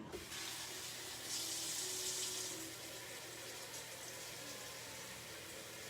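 Tap water runs steadily into a soup pot for escarole soup, a continuous close hiss that swells briefly louder midway as the pot fills, with no talking.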